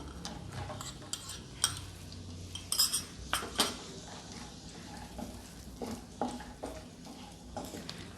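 Raisins stirred with a spoon in a pan, a run of irregular metallic clinks and scrapes against the pan, close and fairly crisp, with quieter stretches between strokes.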